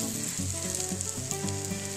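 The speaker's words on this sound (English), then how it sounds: "Fry them up a little bit so they actually are frying." Steady, close sizzling and crackling of eggs frying in a pan on high heat, continuous and fairly loud with no talking.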